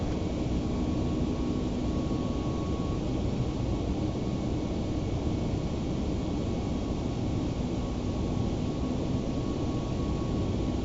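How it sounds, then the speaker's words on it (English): Steady broadband jet engine roar from an Airbus A321neo starting up in the X-Plane 12 flight simulator, a constant even rumble with faint tonal hums, continuous and unchanging throughout with no talk. "And you may start engines."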